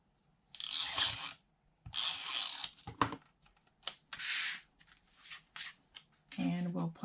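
Strips of tape are pulled and pressed onto a small craft paper panel in short close rubbing and tearing bursts, separated by quiet pauses, with a brief voice near the end.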